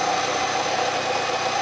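An old Pontiac Firebird idles after its EGR and purge valves were replaced, holding a smooth, steady, close engine hum with a faint tonal whine and no shaking or talk.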